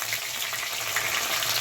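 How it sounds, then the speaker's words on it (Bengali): Onions fry in hot oil with whole spices such as cumin and bay leaf, giving a steady, dense sizzle close up with no voices. "এই পেঁয়াজটা হালকা একটু ব্রাউন করে ভেজে নেব।"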